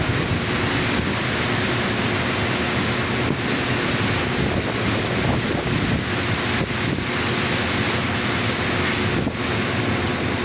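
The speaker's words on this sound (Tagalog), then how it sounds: "Ah, may hangin, may ulan." Strong outdoor wind with rain, a steady, loud roar of gusts and rushing air buffeting the microphone throughout, with no voices.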